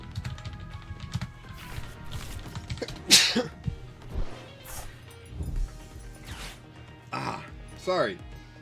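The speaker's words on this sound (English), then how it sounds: "I just sneezed out here in the open while I was replying on Discord" A person sneezes once, sharp and close, in a room with scattered talking, small clicks and handling noises before and after.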